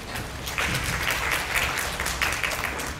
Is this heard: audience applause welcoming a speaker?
yes